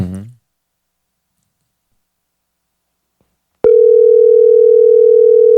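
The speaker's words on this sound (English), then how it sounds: "I'm gonna make this phone call." A telephone dial tone rises abruptly after a click and holds as a steady, loud continuous hum while a phone call is placed, preceded by a brief voice and then silence.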